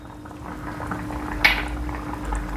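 Sweet-and-sour jaggery chutney simmering in a pot, a soft steady bubbling with a single sharper clink or pop partway through.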